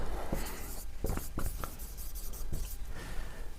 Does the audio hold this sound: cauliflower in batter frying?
no